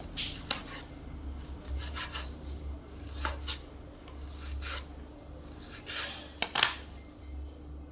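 A knife cuts pork into pieces in a kitchen, giving repeated rasping, scraping strokes with occasional sharp clicks against a hard surface, moderately close and without talk.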